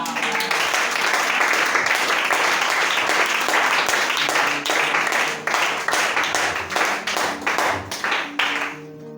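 A church congregation bursts into sustained applause that is loud, dense and close, then breaks into uneven clapping bursts that fade toward the end.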